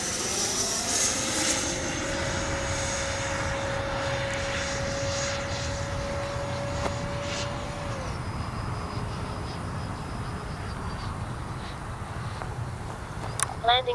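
A Freewing 90mm T-45 RC jet makes a pass, its electric ducted-fan whine steady and then dropping in pitch as it goes by, over broad wind and crowd noise with a voice talking.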